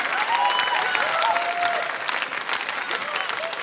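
Loud, dense applause from an audience at a stage performance, sustained clapping from a crowd that carries evenly through to the end, with voices faintly mixed in.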